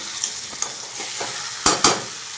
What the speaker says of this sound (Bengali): তো এবার এই চিকেনটা ভালো করে কষিয়ে নেওয়ার পালা দশ থেকে পনেরো মিনিট ভালোভাবে কষিয়ে নেব